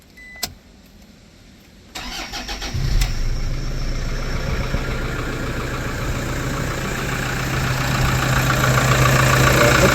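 A van engine in Rangiroa cranks and catches after a couple of seconds, then settles into a steady, fairly loud idle that rumbles on and grows slightly louder toward the end.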